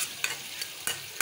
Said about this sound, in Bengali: আলুগুলো আর 2টা টমেটো এখানে দিয়ে দিলাম, কয়েকটা কাঁচামরিচ দিয়ে দিলাম, দিয়ে ভালোভাবে নেড়ে চেড়ে